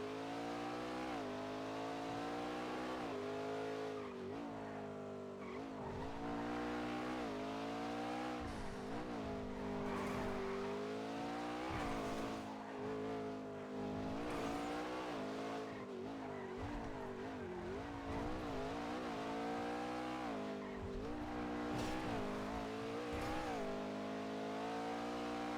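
Game car engine in a NoPixel GTA roleplay session revving and shifting continuously with tire squeals and thumps as it bounces over curbs, steady and loud throughout with no talk.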